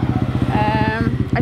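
A motorcycle on its stock sprocket idles and putters at low speed, its engine pulsing in a steady rapid rhythm close by while a rider's voice talks over it.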